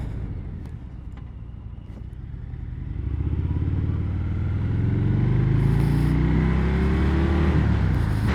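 A 2021 Harley-Davidson Softail, a 300 kg cruiser, rumbles steadily on the road, its low engine note swelling louder as it accelerates and holding a strong, continuous drone with no talking.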